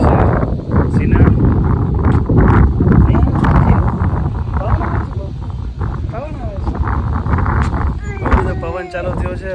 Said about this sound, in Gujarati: હાલ અત્યારે બહુ ફૂલ પવન ચાલુ થયો છે અને વરસાદી વાતાવરણ થઈ ગયું છે